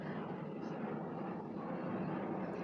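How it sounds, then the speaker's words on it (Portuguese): A helicopter passes overhead, heard as a faint, steady low rumble that holds evenly for a few seconds with no voices over it. "Tá passando helicóptero aqui."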